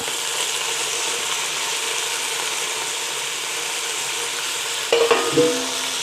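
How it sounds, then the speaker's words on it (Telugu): Mint, ginger and garlic fry in hot oil in a pan while being stirred, a steady sizzle with a short burst of scraping stirring near the end and no talking. "పుదీనా మంచిగా వేగిపోయింది"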